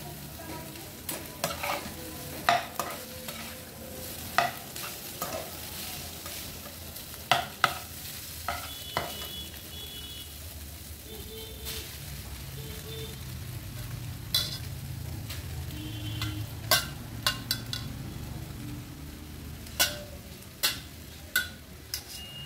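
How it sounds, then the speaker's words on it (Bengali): Boiled Maggi noodles being stirred into a vegetable mixture frying in a pan, with a steady low sizzle broken by frequent sharp clicks and scrapes of the utensil against the pan, no voices. "এবার ম্যাগিটা এর মধ্যে মিক্সচার করে দেবো।"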